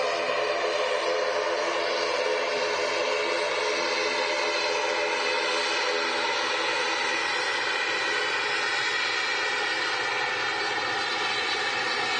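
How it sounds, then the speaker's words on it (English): A Pilatus PC-12 single-engine turboprop approaching to land at Manchester Airport, a steady, fairly loud broadband engine roar with a tonal whine, holding constant throughout without any talk. "We have a very beautiful looking Pilatus PC-12 coming in from London Stansted."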